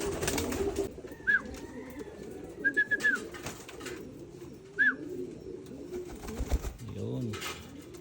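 Pigeons coo in soft, repeated low calls, some close and some further off, while a person talks intermittently over them.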